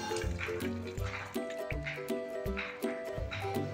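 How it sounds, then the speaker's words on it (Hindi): Hot water runs from a homemade wood-fired water heater, splashing and gurgling into a container in repeated pulses, close by and fairly loud, with no talking. "ये गर्म पानी आना स्टार्ट हो गया है, बिल्कुल गर्म है।"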